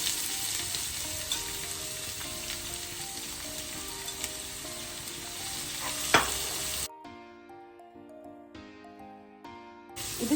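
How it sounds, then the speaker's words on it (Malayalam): Onion, garlic and ginger sautéing in coconut oil in a hot pan, a close, steady crackling sizzle with one sharp stirring knock, then a quieter stretch with faint tonal background before the sizzle returns. "പാൻ നന്നായിട്ട് ചൂടായിട്ട് നമുക്ക് ഉള്ളിയും വെളുത്തുള്ളി ഇഞ്ചിയും എല്ലാം കൂടെ ഒന്ന് വഴറ്റിയെടുക്കാം."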